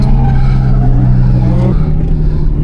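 Car drifting sideways on a track, a loud close engine drone holding steady under squealing tires, the pitch dipping briefly partway through.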